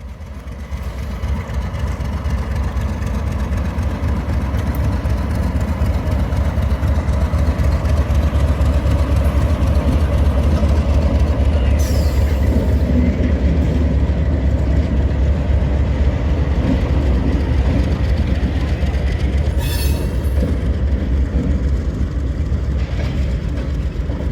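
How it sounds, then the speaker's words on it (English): RS-3 diesel locomotive pulling away with a local freight train at Scranton, a steady loud low engine rumble with rolling wagon noise running throughout, with brief hissing bursts partway through and no talk. "the RS-3 was ready to depart with its local freight"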